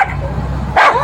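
Dog kept shut inside a contractor's truck, giving a single short bark or yelp near the end, fairly close and loud over a steady low engine-like rumble.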